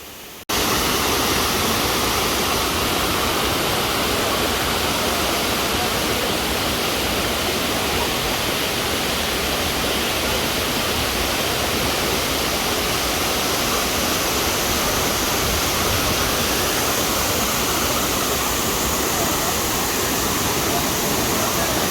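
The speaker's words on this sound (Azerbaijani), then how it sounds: "Son hissəni də keçib füsunkar şəlaləyə çatırıq." Khalit waterfall near Shamakhi in Azerbaijan roars as a dense, steady rush of falling water, loud and close, holding unbroken from the first moment to the end without voices.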